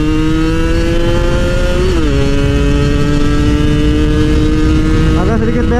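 Motorcycle of about 124cc with a small-diameter aftermarket exhaust, a 2002 model, revving loud and close; the engine note holds steady, drops in pitch near two seconds, then climbs again at the end, with speech faintly present.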